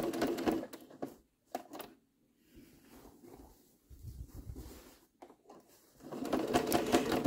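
A sewing machine stitching scrap tote bag panels, running in short bursts of rapid mechanical whirring, pausing and stopping, then starting up again louder near the end.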